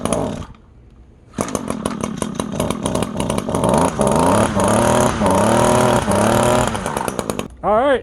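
A repaired gas lawn edger engine sputters, briefly dies down to a quiet idle, then fires up and runs with a loud, buzzing rev that rises and falls, ending with one sharp rev-up.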